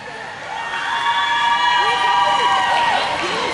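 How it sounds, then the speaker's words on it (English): Spectators at a junior roller derby bout between Tri-City and the Pittsburgh juniors cheer and shout together, a steady crowd roar with high whoops rising over it, continuous and fairly loud throughout. "who's here from Pittsburgh to cheer on the juniors?"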